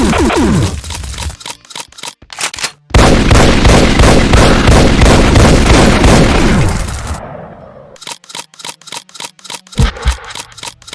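Rapid assault shotgun and plasma rifle fire in a modded Doom shooter, loud close repeated blasts, first in quick separate shots, then a long dense roar of continuous fire, then spaced shots again.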